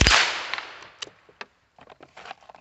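A single sharp crack from a Keystone Cricket rifle fired at a target outdoors, loud and close, followed by faint scattered clicks and handling noises.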